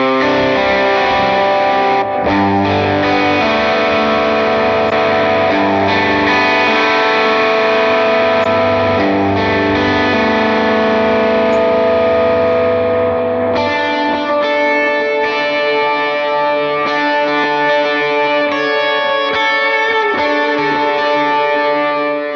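An electric guitar plays through a Line 6 POD Go amp modeler with a simulated 121 ribbon mic, giving a loud, sustained distorted worship-style tone. Chords ring out with delay and reverb, shifting into a new chord pattern partway through.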